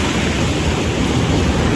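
Water pours at Talon Pari falls in DRT, a loud, dense, unbroken rushing roar close by, with no voices.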